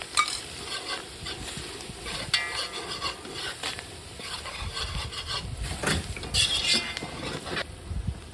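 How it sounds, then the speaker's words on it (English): Steady sizzling of curry with garlic and thyme frying in a pot, with occasional stirring scrapes and light clinks throughout, close and moderately loud. "Curry's frying."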